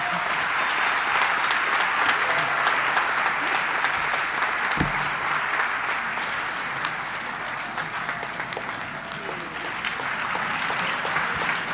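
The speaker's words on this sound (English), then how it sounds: "A bigger round of applause for our Vice Chancellor." Sustained, even applause from a large standing audience for a university Vice Chancellor after her academic opening address, a thick continuous roar of clapping lasting the full stretch with one sharp thump partway through.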